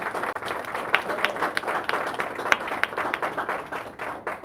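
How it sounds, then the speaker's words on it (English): Scattered audience applause at a lecture, a moderate patter of hand claps with distinct sharp individual claps popping out irregularly throughout, fairly close and unaccompanied by talk. "Let's give her a round of applause."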